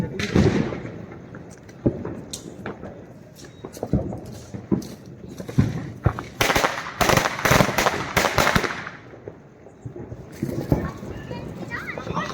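Sharp firecracker bangs burst at irregular intervals, some in quick clusters, amid loud crowd noise and people talking during Diwali celebrations and the Ingoriya fire game in Savarkundla, Gujarat.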